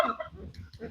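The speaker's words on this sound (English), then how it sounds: "there are ducks quacking" Farm ducks quack in a quick, faint burst of nasal calls at close range, heard outdoors on a rainy day.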